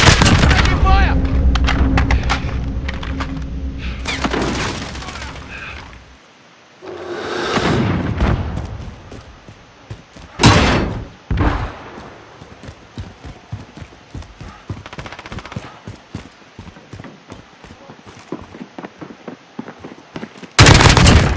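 Loud, close gunfire in Call of Duty Modern Warfare on PC, played in realism mode: rapid bursts and single shots crack out between heavy grenade blasts, with pauses and a rumbling tail, while a soldier's voice calls out during the fighting.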